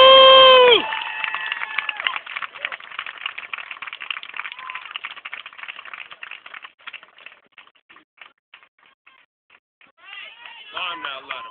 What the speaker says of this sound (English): Give a round of applause to Clarence Allen.